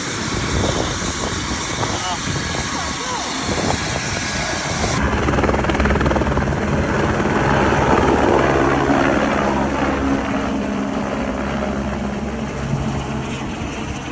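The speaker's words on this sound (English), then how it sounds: "they had a private helicopter brought in some groceries from Taupo" A private helicopter delivering groceries after a cyclone in Patoka, Hawkes Bay, New Zealand, roars close with loud rotor thumping and engine whine, growing fuller partway through, with voices talking over it.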